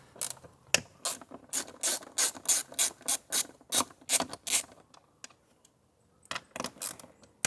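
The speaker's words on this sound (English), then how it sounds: "we've got a mixture of T30 and T25 Torx screws, so we'll get all those off" A ratchet backs out T30 and T25 Torx screws on a Mercedes W164 ML450 CDi, with close rapid clicking bursts, a short pause, then more clicking.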